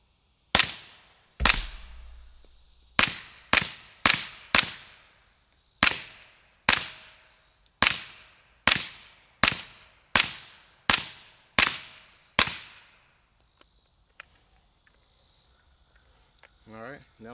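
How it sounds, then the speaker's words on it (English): Suppressed CZ Scorpion Evo 3 9mm pistol-caliber carbine firing Callaway Ballistic 147-grain rounds, about a dozen sharp, loud shots in a steady, unhurried cadence, each with a quick decaying tail. "First up, we got the Scorpion, the CZ Evo 3. So let's see how she sounds."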